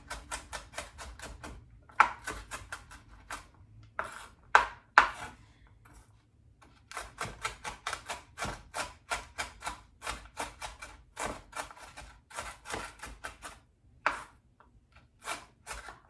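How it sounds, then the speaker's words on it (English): A knife chops red onion on a cutting board for guacamole, sharp rapid taps coming in quick bursts separated by short pauses, close and clear with no talk. "I'm also cutting like a 2-year-old"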